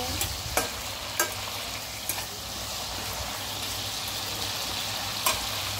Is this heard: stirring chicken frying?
yes